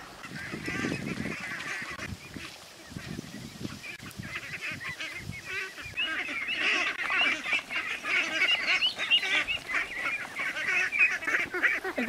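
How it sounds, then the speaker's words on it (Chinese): Ducks and geese on a mountain farm flock give harsh, overlapping honks and quacks that build to a loud, continuous chorus nearby. "这又有好多鸭子跑下去了"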